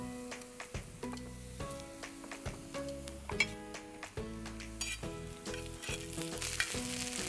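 Fish for Kanyakumari-style meen thokku with ginger-garlic paste frying in a pan, a steady close sizzle with scattered spatula scrapes and taps throughout, alone under a soft musical background.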